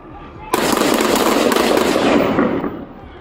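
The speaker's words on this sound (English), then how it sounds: "Shots fired from my partners." Police officers fire a rapid volley of gunshots during a manhunt, a dense crackling burst lasting about two seconds that starts abruptly and then cuts off, loud against quiet outdoor background.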